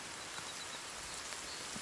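Rain in the survival video game The Forest, a dense, even hiss of falling rain with faint drop patter, steady and soft over a short stretch.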